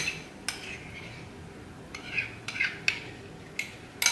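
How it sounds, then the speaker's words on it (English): A utensil scrapes and clinks against the bottom of a pan holding a spiced sauce for cauliflower, in short sharp metallic strokes spaced irregularly, close and clear, with no voices. "I'm just going to scrape the bottom"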